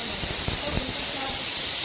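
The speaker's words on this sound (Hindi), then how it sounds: "कुकर बजे जा रहा है।" A pressure cooker whistles in a home kitchen while dal and rice cook, producing loud, continuous steam hissing that fills the whole stretch with faint low thumps underneath.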